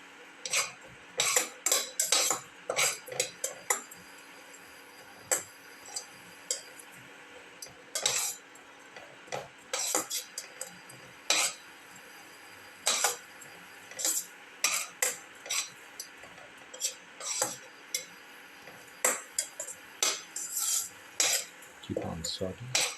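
Fennel seeds and spices sautéing in a pan for a pumpkin tomato rice soup, heard as repeated close clinks and scrapes of a spoon against the pan, irregular and fairly faint, with soft sizzle beneath.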